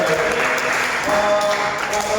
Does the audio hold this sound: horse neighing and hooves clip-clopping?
no